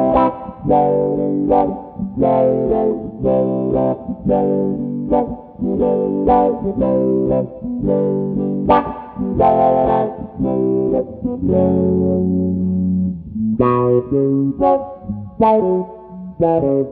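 Electric guitar through a Fender Deluxe Reverb tube amp, played as rhythmic chopped chords and short melodic runs with brief pauses, loud and clear with no talking.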